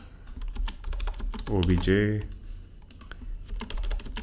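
Quick, crisp computer keyboard taps rattle steadily as JavaScript code is typed, with a nearby voice speaking briefly in the middle while the clicking continues around it.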